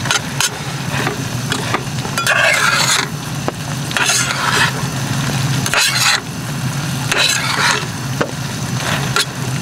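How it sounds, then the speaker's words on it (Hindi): Pasta being stirred with soya chunks in a camping pot outdoors in a forest in Uttarakhand, giving repeated scraping, rustling bursts in a steady rhythm over a constant low background rumble. "इसमें आप ये सोया चंक्स मिला के और मिक्स करके खाऊंगा मैं"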